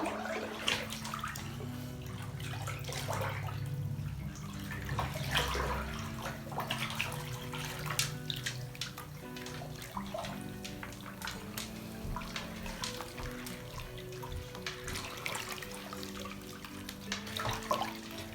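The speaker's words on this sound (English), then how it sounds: "you just lay back down in the water and give it a good swish." Dreadlocks swished through bathtub water during hair washing, soft sloshing and splashing with gentle irregular surges, quiet and close, with no talking.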